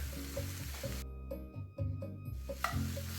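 Tomato paste and pork are stirred in a hot pan for a Spanish-style stew. Soft sizzling and the scrape of a spoon sit under a melodic music background, with a brief gap in the frying noise midway.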